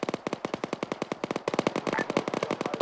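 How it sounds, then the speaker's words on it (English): Gunfire in a video game: rapid, steady automatic bursts of shots, a short burst followed by a brief pause and then a longer, denser stream, loud and close with no talking. "Shots fired, shots fired."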